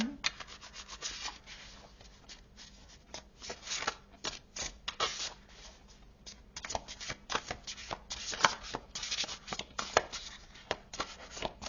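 Tarot cards shuffled by hand before a reading, a close run of papery riffles and rubbing swishes coming in uneven bursts throughout, with no talking.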